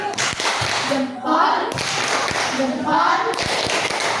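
A class does the 'tepuk jempol' clapping routine, with rhythmic claps and taps running through the stretch, mixed with voices chanting along in a lively room.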